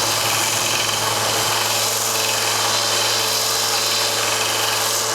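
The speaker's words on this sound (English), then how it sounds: "you're going to go to your belt disc sander and you're going to sand them down to 3/8 of an inch" A belt disc sander grinds down rings cut from 1-inch and 1.25-inch PVC pipe, a continuous loud motor whine with a steady hum, unbroken and close, no talk.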